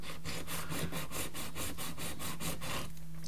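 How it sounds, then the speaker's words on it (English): A perm grip sanding block scuffs the edges of parts for a 91-inch Extreme Flight Extra NG v2 model airplane, making a steady run of about a dozen quick, close rasping strokes that stop near the end. "Just get your sanding block. This is a perm grip block."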